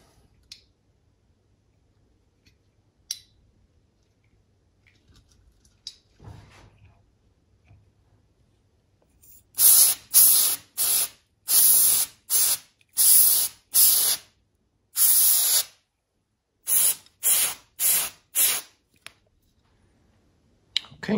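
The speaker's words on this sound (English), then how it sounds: "let's go over to board and just clean it with a bit of compressed air" Short bursts of compressed air spray across a Macintosh Plus logic board, about a dozen sharp hissing blasts in an irregular rhythm, loud and close with quiet gaps between them.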